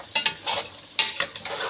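Chicken browning with garlic and ginger in a pan for shahi korma: short bursts of scraping and clattering as a spoon stirs the pieces, over a soft, close sizzle, with no voices.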